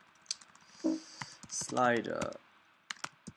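A computer keyboard is typed on while code is entered for a step sequencer, giving scattered light clicks and short bursts of keystrokes under a voice.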